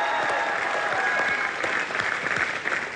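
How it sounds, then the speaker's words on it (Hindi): Studio audience at a comedy show clapping loudly and steadily, a thick sustained round of applause with a few sharper individual claps standing out. "जोरदार तालियां मिसिज पम्मी प्यारे लाल के लिए।"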